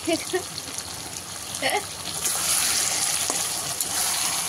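A tomato curry sautés in a pan, giving a continuous close sizzle that swells louder in the second half, with brief voice sounds near the start.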